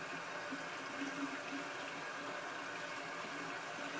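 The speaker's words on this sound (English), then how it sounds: "I'm gonna get this wet with warm running water." Warm water runs steadily from a tap as a cloth is wetted, a continuous soft hiss and splash close by with no talk.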